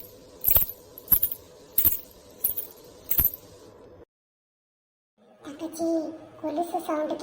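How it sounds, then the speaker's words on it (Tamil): Metal anklets (kolusu) jingle in a bright, regular rhythm of five clinking shakes, then fall silent before people begin speaking nearby. "கொலுசு சவுண்ட் கேக்குதா அவனுக்கு?"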